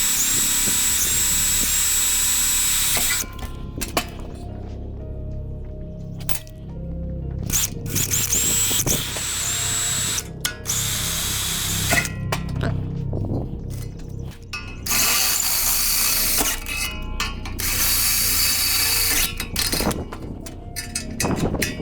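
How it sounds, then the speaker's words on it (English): Power drill boring holes during suspension work on a BMW E39 M5, with several separate whirring bursts of varying length, separated by short pauses and clicking mechanical sounds. "And drill both of these holes."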